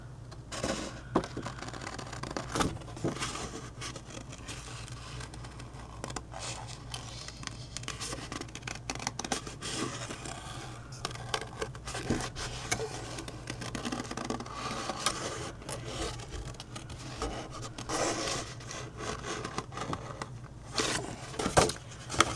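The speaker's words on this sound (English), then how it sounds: "I'm going to cut right around." Paper being cut around a tree shape with scissors for a Christmas explosion box, a soft, continuous scatter of small snips and rustles, close but quiet, with no talking.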